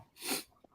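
One sharp sneeze indoors, a quick breathy burst peaking and fading within half a second, fairly quiet with a small click just after.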